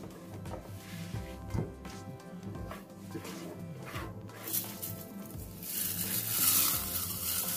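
Chopped greens and apple hit a hot pan with a soft, continuous sizzle and scattered crackles, some stirring scrapes, building slightly louder toward the end; no talking.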